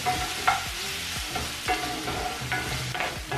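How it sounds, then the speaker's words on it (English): Crème fraîche and tomato purée stirred into chorizo in a pan over low heat, giving a soft continuous sizzle with repeated spoon scrapes and knocks against the pan, close and fairly quiet, no talking. "as you're stirring the creme fraiche and tomato puree into the chorizo"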